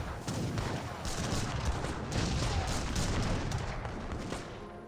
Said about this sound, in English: Just when there's grenades exploding all of your skirmishers.